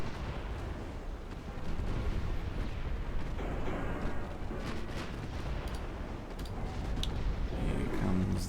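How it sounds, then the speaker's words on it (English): In a strategy video game battle, heavy guns fire in rapid, overlapping booms and bursts that blend into a continuous rumbling barrage at moderate loudness, with no talking. "Guns firing."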